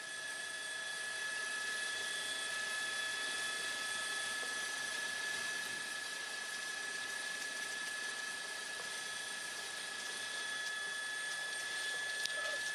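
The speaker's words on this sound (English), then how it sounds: "they've got the helicopter right overhead" An LA County Sheriff helicopter hovers overhead during a truck chase through the San Fernando Valley, producing a steady, faint whine with a constant tonal hum and no talk.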